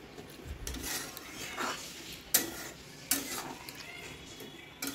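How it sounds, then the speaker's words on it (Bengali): Paneer and peas stirred in a pot, heard as soft scraping and rubbing with a few sharp metallic clinks of a spoon on the pot over a faint background sizzle. "মটর দেওয়ার পরে এবার দিয়ে দিচ্ছি পনিরগুলোকে, দিয়ে এবার ভালো করে নাড়াচাড়া করে নেওয়ার পরে ঢেকে দেব।"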